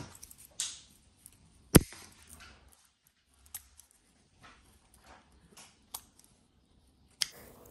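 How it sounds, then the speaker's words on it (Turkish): Scissors snip through the woody stem and flower spikes of an orchid, giving a sharp loud cut followed by scattered quieter clicks and snips with pauses between them. "Gördüğünüz gövde kısmındaki çiçek dallarını ve daha çok odunsu olan kısmı kesiyorum"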